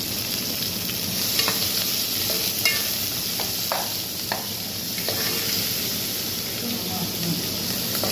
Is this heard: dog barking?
no